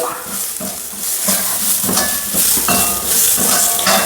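Onion and two green chillies frying in a pan for Bombay-style sambar, a loud, close sizzle with occasional stirring scrapes and utensil knocks throughout.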